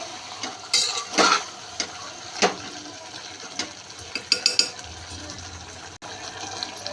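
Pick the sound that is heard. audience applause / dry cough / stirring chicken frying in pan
stirring chicken frying in pan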